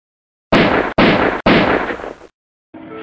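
Three heavy gunshots fired at a fox in a stop-motion film trailer, loud, booming and evenly spaced, each with a decaying tail, followed after a short silence by a quieter, muffled burst.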